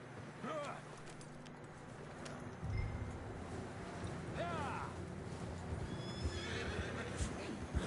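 Horses whinny several times in Red Dead Redemption 2 over a steady background of game ambience, with faint hoofbeats and a voice speaking briefly beneath.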